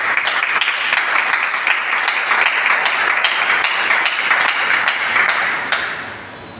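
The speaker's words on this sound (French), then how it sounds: "je vous invite encore de l'ovationner avec des applaudissements" Audience applause at a conference on the inclusion of women with albinism: loud, dense clapping from a crowd sustained for several seconds, then tapering off at the end.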